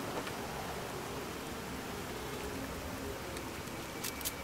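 Steady rain hisses in the Fallout 4 game world, a soft, even wash of patter with no voices.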